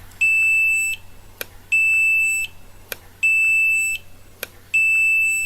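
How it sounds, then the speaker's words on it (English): An electronic meter beeps as it is switched on, a loud close high-pitched tone repeating in four long pulses with short clicks between them, alone with no talking. "Comparison of the meter turning on, beep sound"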